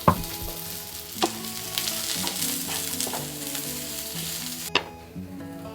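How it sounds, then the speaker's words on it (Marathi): Onion roasting in oil in a pan for a Maharashtrian vegetable dish gives a steady close sizzle and crackle, with occasional utensil clinks and stirring scrapes and background tones throughout. "आता थोडंसं तेल टाकून अजून भाजून घेऊया."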